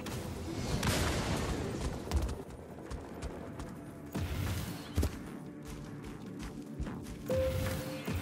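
Gunfire rattles in the Firefall sci-fi shooter game during a fight against a shielded generator, heard as faint, scattered bursts and sharp cracks over a busy, low background of game effects.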